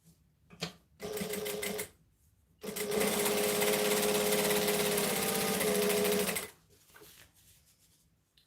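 A sewing machine basts a pocket onto a garment in two runs, a short burst of stitching followed by a longer steady whir of several seconds, close and loud, with quiet pauses between.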